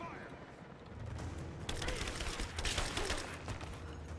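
Rapid bursts of gunfire from the video game Rise of the Tomb Raider, loud and dense through the second half, with game sound in the background and no talk.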